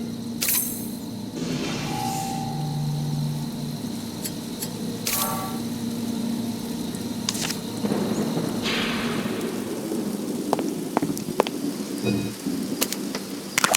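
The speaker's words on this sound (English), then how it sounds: "Looks like a storm's brewing." Steady rain of a brewing storm in the video game Penny Dreadfuls Sweeney Todd, with low rumbles of thunder and scattered sharp clinks over the constant patter.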